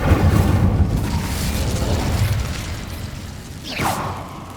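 Incendio fire spell cast in Hogwarts Legacy, a loud rushing burst of flame that fades, followed by a short rising whoosh near the end.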